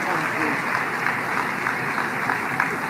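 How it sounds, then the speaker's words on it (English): An audience claps steadily in a hall, a dense, even wash of applause that keeps going through the whole stretch. "Why are they clapping?"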